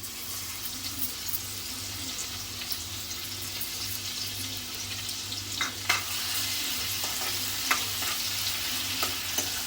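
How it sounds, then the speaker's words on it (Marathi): Oil sizzles steadily in a pan as garlic fries, with a soft crackle, a few sharper pops and clinks rising toward the end. "तेल गरम झालं की आपण लसूणची फोडणी करायची आहे"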